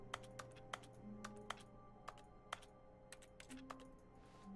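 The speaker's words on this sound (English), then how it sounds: "Is that keyboard sounds or is that something else?" Computer keyboard typing in a quiet room, sparse, irregular key clicks over a steady low hum, fairly faint with no talking.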